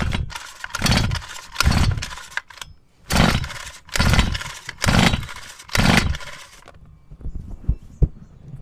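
An RC Baja motor with worn, noisy clutch plates runs in loud, rough bursts, surging and dropping in an uneven rhythm before settling into a lower idle with scattered rattles.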